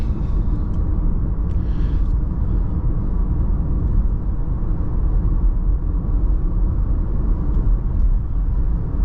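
A 2024 Volkswagen Jetta Sport with a 1.5-liter turbo cruises at about 60 mph on a smooth road, giving a steady, even low rumble of engine, tires and wind from inside the cabin, with no talk.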